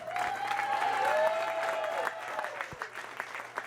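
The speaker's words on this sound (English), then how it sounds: "how about another nice round of applause for our 2 finalists?" Crowd applause fills an arena at a girls' state basketball finals, a steady, dense clapping that holds for several seconds and thins slightly toward the end, with a faint voice in the background.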